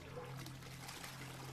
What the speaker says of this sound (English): Alright, so there is running water.